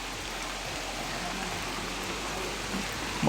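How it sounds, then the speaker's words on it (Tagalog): Steady rain pours as a dense, even hiss, close and continuous for a few seconds with no voices. "Wala na mabasa kami sa ulan tol."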